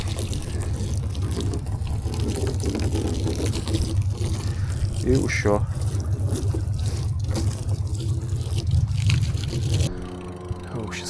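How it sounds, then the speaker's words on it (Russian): Fresh water hosed over a yacht to rinse off salt water after an evening sail, a steady splashing spray running continuously with a brief spoken phrase partway through, then thinning out near the end. "Сейчас еще помыть надо от соленой воды."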